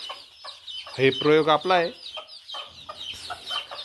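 Native desi country hen with her chicks clucking and cheeping close by in a basket brooder, a burst of loud clucks in the middle and softer peeps around it, with someone briefly speaking.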